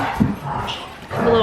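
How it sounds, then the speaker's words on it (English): Two dogs at play in a home give off short yips, whimpers and rough little barks, close by and lively, mixed with what sounds like a voice. "And the dogs, they're going at it."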